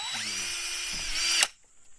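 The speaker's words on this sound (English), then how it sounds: "Just drill a little small screw" A power drill bores a small screw hole during DIY modifications to an IBC tote rainwater harvesting system, with a close, high whine that rises in pitch for about one and a half seconds and then stops sharply.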